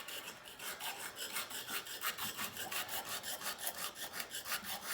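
Back of an old Union chisel being flattened and polished on an abrasive surface, a steady back-and-forth rasping scrape in even rhythmic strokes, close and moderately quiet, with no voices.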